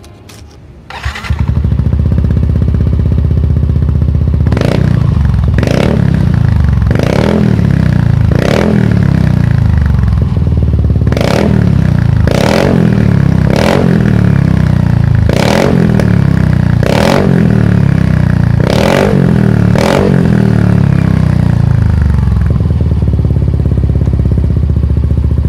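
A Yamaha NMAX scooter with a Daytona aftermarket exhaust, its dB killer removed, starts up outdoors and then idles loudly, punctuated by about a dozen sharp, evenly spaced throttle blips, each rising and falling back to a rumbling idle.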